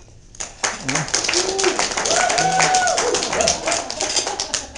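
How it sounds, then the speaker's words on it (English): Scattered courtesy applause from a business seminar audience for a motivational speaker, brief uneven clapping at moderate level with some faint voices and chatter mixed in. "Thank you for the courtesy applause there."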